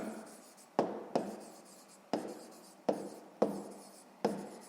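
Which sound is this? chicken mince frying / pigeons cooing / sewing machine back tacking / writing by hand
writing by hand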